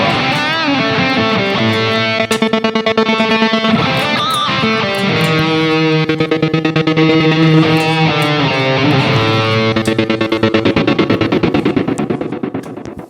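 Electric guitar chords chopped into rhythmic pulses by a slicer effect, with echoing delay repeats and light distortion, loud and continuous.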